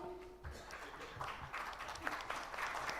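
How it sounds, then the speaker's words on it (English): Quiet, distant applause from a forum audience at a fintech event, a soft wash of clapping with a few voices, heard faintly over the room's ambience. "Please give a big round of applause for Mr. Qasim."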